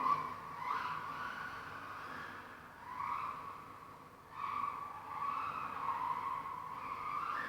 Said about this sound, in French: Elle part vite en tête à queue